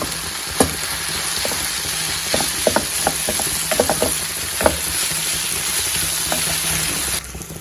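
Ragi finger-millet noodles sizzle and fry in a pan with cooked tomatoes and chili paste, a steady close hiss broken by scattered scraping and clacking stirring strokes, ending with a slight drop in the frying noise.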